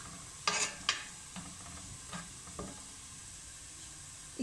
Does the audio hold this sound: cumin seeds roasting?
yes